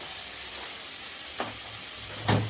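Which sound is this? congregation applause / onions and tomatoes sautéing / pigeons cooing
onions and tomatoes sautéing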